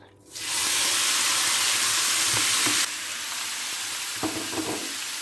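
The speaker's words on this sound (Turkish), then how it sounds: "Önceden ısıttığım tavaya etlerimi bırakacağım" Meat drops into an oil-slicked preheated pan and sends up a loud, close hiss of frying that eases to a softer sizzle, with a few stirring clicks near the end.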